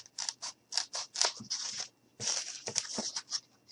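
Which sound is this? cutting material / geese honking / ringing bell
cutting material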